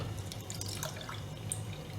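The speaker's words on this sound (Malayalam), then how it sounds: "1 കപ്പ് വെള്ളം ഒഴിച്ചു." Water trickles and splashes softly as one cup is poured into fine rice flour in a pan, a light, uneven pouring sound close by and fairly quiet.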